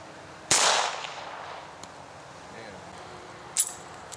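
A Smith & Wesson Model 41 rimfire pistol fires a single sharp, loud crack that decays quickly in open air at an outdoor range, followed a few seconds later by a fainter distant smack.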